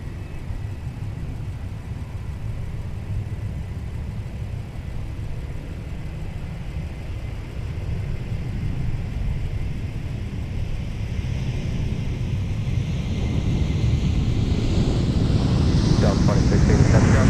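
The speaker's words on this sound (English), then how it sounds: "Here's our American flight to Charlotte, now departing off 12 right with the Airbus" An American Airlines Airbus A321 takes off from runway 12 right at Minneapolis–St. Paul, its engine roar building steadily from a distant rumble to a loud, rising, close whine by the end.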